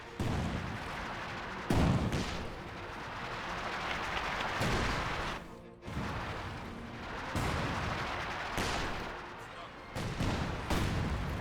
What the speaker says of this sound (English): Couple smoke barrages there.